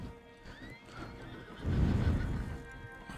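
A horse in the Red Dead Redemption II video game whinnies in rising, shrill calls, then hooves clop heavily for a moment at close range, with no talk over it.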